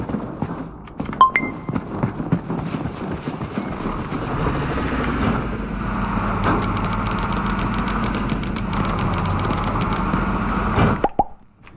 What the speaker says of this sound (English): Damn, trucks are so fucking loud